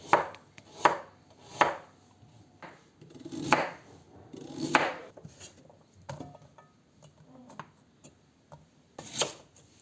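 A knife cuts carrot into rounds on a board, sharp separate chops landing in loose clusters about a second apart, close and crisp with quiet gaps between, and no talking.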